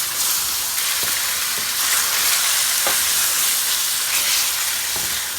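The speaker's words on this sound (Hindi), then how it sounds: "मैरिनेट की हुई कलेजी ऐड करने के बाद हमने कलेजी को अच्छे तरीके से भून" Marinated mutton liver frying in a pan, a loud, dense sizzle and hiss running steadily throughout, with a few soft knocks of stirring.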